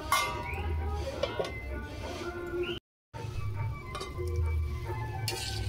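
Spatula stirring and scraping the bottom of a pot of Gobindobhog rice pulao, soft scrapes and faint sizzling with a few light clinks over about five seconds, broken by a brief silent gap midway.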